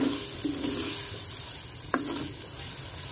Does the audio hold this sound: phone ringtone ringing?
no